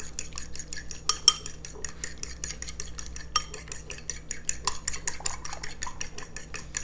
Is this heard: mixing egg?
yes